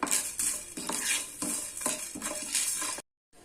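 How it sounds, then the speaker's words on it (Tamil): Peppercorns, fenugreek seeds and dried chilies dry-roasting in a pan over medium flame rattle and scrape in rhythmic bursts as a spoon stirs them against the metal, near and fairly loud, then stopping abruptly. "இப்போ இதை நான் மீடியம் ஃப்ளேமில் வச்சு வறுத்து எடுத்துக்கிறேன்"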